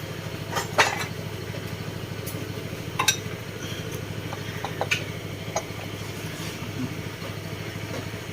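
Yamaha NMAX 155 scooter engine running excessively noisy, a steady low idle drone close by, with occasional metallic clinks and taps over it.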